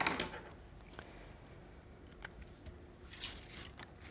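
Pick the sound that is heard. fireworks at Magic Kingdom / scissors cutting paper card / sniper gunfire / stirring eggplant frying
scissors cutting paper card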